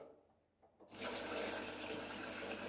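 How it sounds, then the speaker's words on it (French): After a near-silent pause, rinse water bursts through the steam nozzle of a DeLonghi EVO coffee machine during descaling, settling into a steady hissing, gushing flow that continues to the end, close by. "on va rebasculer le robinet de droite à gauche pour faire passer maintenant le liquide, enfin l'eau de rinçage par la buse vapeur"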